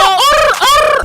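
A voice imitates a bird, or a burp made to sound like one, with two drawn-out, warbling, squawky calls close to the mic, rising and falling in pitch, with no other sound around them.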